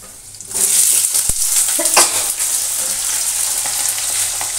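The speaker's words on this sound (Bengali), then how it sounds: "দেখো, আলুগুলো দিয়ে দিলাম। আলুগুলোকে এবার লাল লাল করে ভেজে নেব।" Potato pieces sizzle loudly after being dropped into hot oil tempered with green chilli, cumin and bay leaf, a steady broad frying hiss with a few stirring clatters near the start, no voices.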